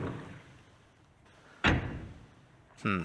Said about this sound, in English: If we open this door, you can see